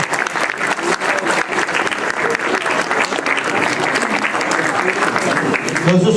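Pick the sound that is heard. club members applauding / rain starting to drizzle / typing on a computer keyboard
club members applauding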